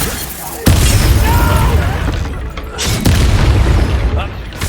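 A spell explosion in the Hogwarts Legacy video game: two loud, deep booms with a sharp onset, each one rumbling away over a second or two.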